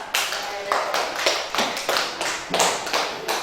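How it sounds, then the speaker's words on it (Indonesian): Classroom applause for a student group, a handful of people clapping in uneven bursts with sharp individual claps standing out, and voices mixed in. "Udah, tepuk tangan buat kelompok 3."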